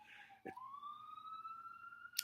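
A police siren wails steadily in the background, one long rising tone that holds and sustains at moderate distance with a faint click at the start.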